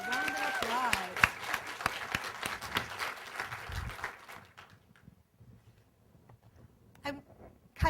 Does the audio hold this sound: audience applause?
yes